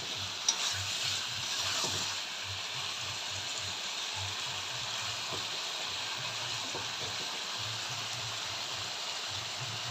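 Okra and eggplant fry in a hilsa fish curry with a steady, close sizzling hiss, a low bubbling pulse running underneath throughout.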